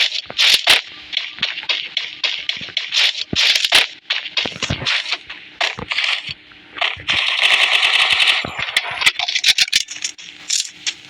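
Rapid bursts of automatic gunfire from a shooting video game, dense and loud with clattering rattles and short pauses between volleys, no talking.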